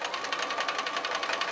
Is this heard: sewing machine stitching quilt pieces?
yes